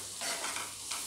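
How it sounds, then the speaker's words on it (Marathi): Capsicum (bell pepper) stirred and frying in a pan while cooking Gobi Manchurian, a brief steady sizzle with soft scraping strokes of the spoon, close and fairly quiet. "शिमला मिरची पण 2 ते 3 मिनिट फ्राय करून घ्यायची आहे."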